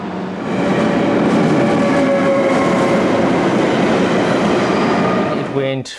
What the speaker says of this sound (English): The next day I caught my train.